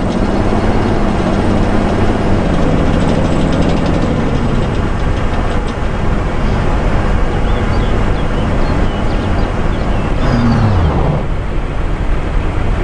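Several tank engines idle and rumble in a combat video game, a steady loud droning mechanical hum running continuously throughout, with a rising engine whine near the end.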